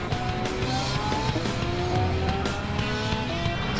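A Lamborghini Aventador race car powering out of a corner at Bathurst, its engine note climbing through the gears with some tire squeal, loud and continuous, amid other racing cars.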